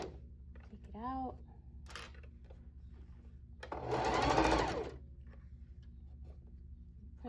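A sewing machine stitches fabric for a pillowcase in one loud, steady whirring run lasting about a second, after quieter handling clicks and a brief voice sound earlier.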